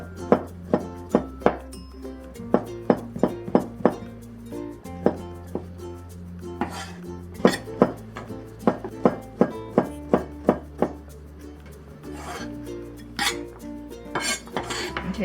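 A knife chops steadily on a cutting board, slicing barbecue pork thin and shredding it into matchstick pieces, with dozens of crisp, close knocks in an uneven rhythm and no talking.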